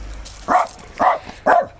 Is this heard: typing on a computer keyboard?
no